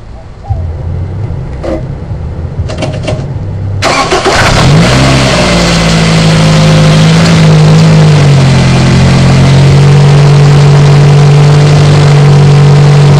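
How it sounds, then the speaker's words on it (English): A car engine cranks and starts after a cooling fan motor replacement, a few clicks and a burst of cranking, then a steady loud idle with a rising whine, close by. "the next thing to do is to start the car and see if it comes on"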